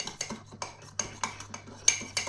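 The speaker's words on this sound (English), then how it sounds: "now we just need to do some stirring" A utensil scrapes and taps against a pan while stirring steak pie filling, a quick irregular run of close metallic clinks and knocks with a low hum beneath, no one talking.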